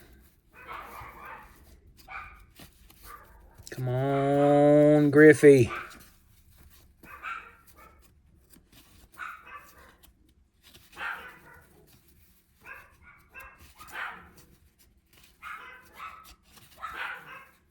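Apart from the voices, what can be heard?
dogs barking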